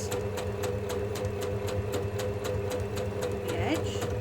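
Sewing machine stitching fabric in a steady run, a continuous motor hum with quick, regular needle ticks, while a person talks over it.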